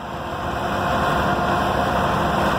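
A German 1964 Deutz D8005, an 80-horsepower tractor weighing 10,420 pounds, roars loudly and continuously under heavy load during a tractor pull, a dense unbroken engine drone filling the whole stretch.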